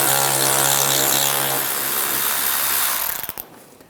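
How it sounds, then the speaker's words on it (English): A power driver with an 8mm socket backs out a screw from the front bumper cover of a 2013-2016 Dodge Dart. The motor whirs loud and steady, winds down, and ends in a few quick ratcheting clicks. "Use an 8mm socket,"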